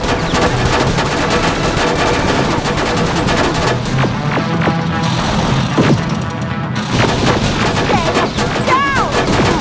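Gunfire in the Terminator: Resistance video game: dense, rapid bursts of shots and impacts crackle continuously at close range, with brief shouted voices mixed into the loud battle.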